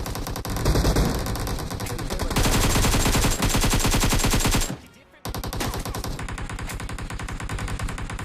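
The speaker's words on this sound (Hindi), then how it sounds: "मैंने कुछ ज़्यादा ही पहले फायर कर दिया" Loud, sustained automatic gunfire in the battle-royale video game BGMI, dense rapid bursts running almost continuously with one brief pause before the firing resumes, close and heavy with no clear talk.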